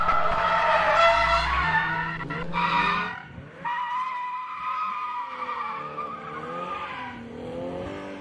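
Toyota 86 on a gymkhana track, tyres squealing loudly as the car slides through a skid, sustained high-pitched screech with a brief dip before the squeal resumes, engine faintly underneath.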